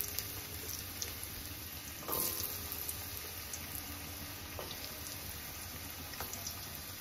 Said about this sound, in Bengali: এবারে আমি এর মধ্যে সবজিগুলো দিয়ে নেবো এই তেলের মধ্যে।